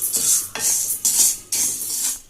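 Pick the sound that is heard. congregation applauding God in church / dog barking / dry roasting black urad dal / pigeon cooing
dry roasting black urad dal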